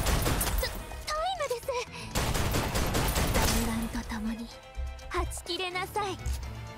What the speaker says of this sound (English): How many machine guns are in here?